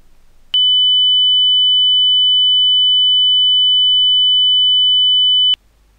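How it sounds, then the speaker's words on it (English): A steady, pure 3000 Hz sine tone holds unchanged for about five seconds, starting and stopping abruptly against near silence. "here you can hear an example at 3000 Hz"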